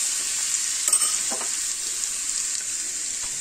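Spoonful of ghee heating in a small pan on a gas stove, a steady close hissing sizzle throughout, with a few soft stirring scrapes.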